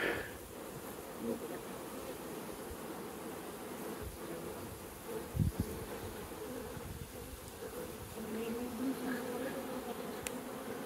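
A honeybee swarm balls its queen, giving a dense, steady buzzing hum that fills the whole span at close range, with slight swells and brief rustling.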